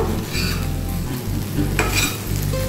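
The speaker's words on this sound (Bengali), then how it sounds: "এবার কিন্তু এটা জাস্ট ভেজে নেওয়া। একদম জলটাকে শুকিয়ে নেব।" Bitter gourd pieces fry and sizzle in a pan as their water cooks off, a steady hiss broken by scraping stirs and a sharper burst near the end, close and loud, with no voices.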